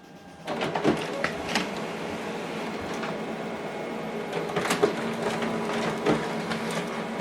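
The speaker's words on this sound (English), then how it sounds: "So now this document is going to print out." A laser printer whirs and clicks steadily as paper feeds through, printing on both sides, with mechanical rattles and periodic thumps, close by and fairly quiet.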